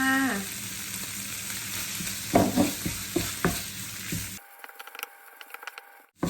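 Food sizzles loudly in a hot pan after fish sauce goes in, with a spatula stirring and scraping in several close strokes before the frying drops away to a quiet hum and light taps.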